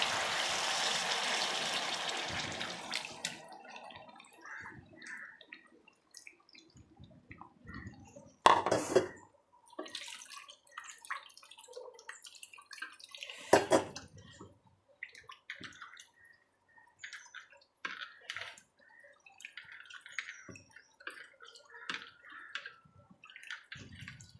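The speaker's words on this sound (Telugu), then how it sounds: "ఇదిగోనండి ఇలాగా చింతపండు పులుసు పోస్తున్నాను" Tamarind extract poured into a cooking pot, a brief wet pour at the start followed by sparse clinks and soft knocks of utensils and vessels, quiet and close with no talking.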